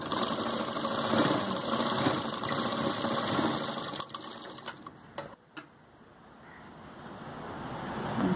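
A sewing machine stitches a kameez, a rapid steady mechanical whir running for several seconds before halting with a few clicks, then resuming softly.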